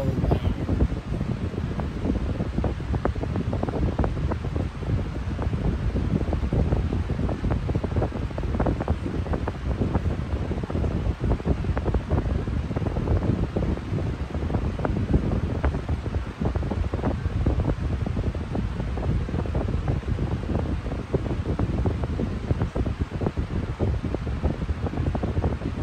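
A 20-inch Big Air high velocity fan running on its low setting gives a steady, even airy whoosh with a faint flutter that stays constant and close throughout, with no talk.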